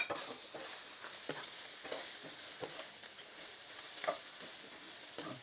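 Mushrooms and chicken sizzle in a hot pan for pancit, a steady frying hiss broken by repeated scraping stirs at an irregular rhythm, close and moderately loud with no talk.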